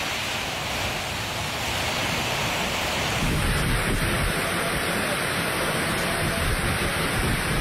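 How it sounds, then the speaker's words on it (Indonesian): Heavy rain driven by a violent storm wind over the city of Jember, East Java, a loud, dense, continuous roar that swells slightly partway through. "Video amatir merekam saat hujan deras disertai angin ribut melanda kota Jember"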